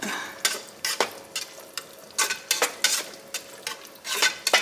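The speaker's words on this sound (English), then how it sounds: "we're gonna let that cook with the sauce on it" Spaghetti simmering with bolognese sauce in a pan on low to medium-low heat, heard as a soft steady sizzle broken by repeated scraping stirs and light utensil knocks against the pan.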